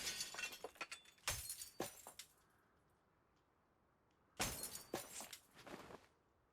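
Items smashed in a video game shatter in loud bursts of breaking glass, a quick cluster of crashes, a pause of near silence, then another volley of shattering and clinks.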